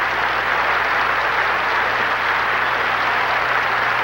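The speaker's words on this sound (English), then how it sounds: "The near capacity crowd here at the Marriott Arena enjoying Nancy Kerrigan and each of the competitors" Near-capacity arena crowd at the 1989 U.S. Olympic Festival, Marriott Arena, applauding a ladies' free skate figure skating performance; steady, dense clapping wash that holds evenly for the whole stretch.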